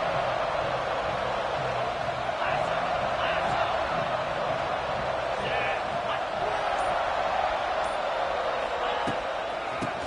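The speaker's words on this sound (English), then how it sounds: "Listen to the crowd energy here in the early going." Stadium crowd at a Louisville college football game, a steady, dense roar of cheering and noise filling the whole stretch, with a commentator's voice over it.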